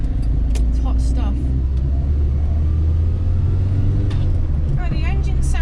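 An Austin Allegro's engine drones steadily from inside the car while driving, a constant low rumble with people talking over it throughout.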